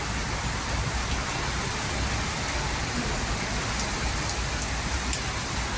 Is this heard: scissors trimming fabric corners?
no